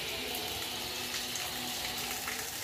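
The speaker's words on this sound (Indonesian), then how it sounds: "Dan ini untuk keran janitor, kita coba kita nyalakan" Janitor's utility tap in a bathroom opened up, water gushing steadily and loudly at high pressure with a constant broadband rush, close by and without talk.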